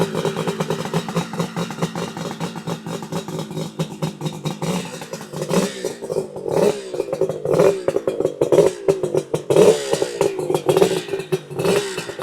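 A green 1975 Suzuki GT550 motorcycle engine running close by, loud with a busy, uneven two-stroke burble and clatter, climbing into sharper revs partway through.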